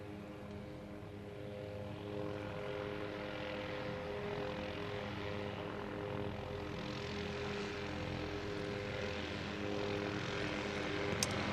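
A propeller aircraft carrying VIPs arrives at the Kemble airshow, its engine drone steady and moderately distant with clear tonal prop harmonics holding throughout amid outdoor ambience.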